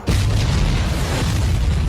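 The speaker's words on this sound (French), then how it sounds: "quand soudain, de puissantes explosions retentirent" A sustained deep boom rolls out loud and unbroken, like powerful explosions thundering in a battle, with heavy low rumble that holds steady throughout.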